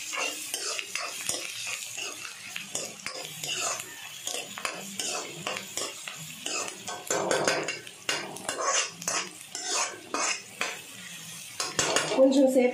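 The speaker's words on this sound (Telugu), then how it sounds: "మిరియాలు, చూడండి వేపుతున్నాను ఉల్లిపాయలు." Onions and black peppercorns frying in a pan for a spicy mutton curry, with light sizzling under frequent scraping and clinking of a metal spoon against the pan, in a busy irregular rhythm.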